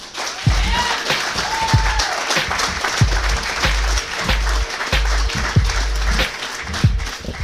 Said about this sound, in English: One more round of applause for Tom